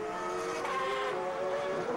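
A 2007 GP2 Series race car at Valencia, with a 4-liter V8 and an 8-into-1 exhaust, screams past in a brief, high, tonal engine howl whose pitch slides slightly as it goes.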